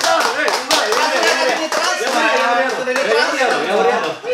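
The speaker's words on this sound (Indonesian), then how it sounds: "tepuk tangan dulu dong" A few people clapping in an indoor talk-show setting, close sharp hand claps in an uneven rhythm mixed with overlapping voices talking and laughing.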